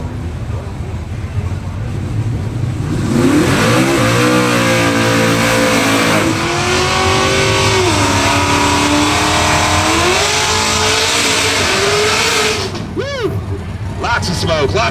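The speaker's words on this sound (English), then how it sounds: "Both cars doing stellar burnouts. The old 442 just rumbling away, man." Oldsmobile Cutlass 442 muscle cars doing burnouts at a car meet, engines roaring loudly and revving up and down in long sweeping surges with a deep rumble, tire noise, and voices in the background.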